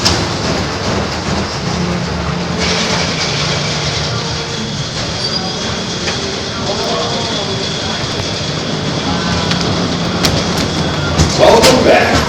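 A roller coaster train rumbles and clatters along its track at California's Great America, a continuous loud roar with rattling wheels and a sharper burst of noise near the end.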